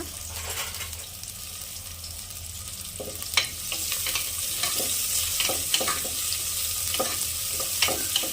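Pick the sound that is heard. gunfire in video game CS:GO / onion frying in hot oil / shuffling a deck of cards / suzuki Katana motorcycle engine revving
onion frying in hot oil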